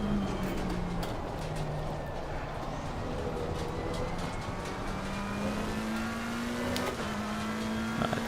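Race cars roaring around the Nürburgring in Assetto Corsa Competizione with a McLaren 720S Evo, a sustained engine drone with shifting pitch as other cars pass close by, with no speech.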